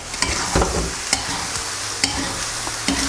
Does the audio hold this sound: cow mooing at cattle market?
no